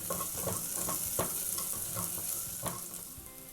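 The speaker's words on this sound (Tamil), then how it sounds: "இதை வந்து லைட்டாக வதக்கிடலாம்." Curry leaves sizzling and crackling in a hot pan, with occasional stirring scrapes; steady, close, no voices.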